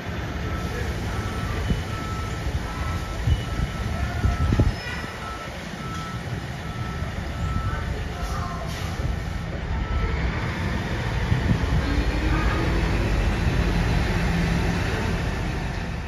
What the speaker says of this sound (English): Here's a different Amtrak train, the Blue Water to Port Huron, which wasn't canceled.